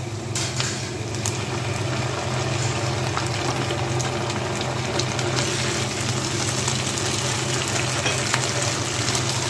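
Vegetables for restaurant-style chicken manchurian sauté in a hot pan, giving a steady, dense frying hiss that stays even and close throughout, with faint stirring beneath it.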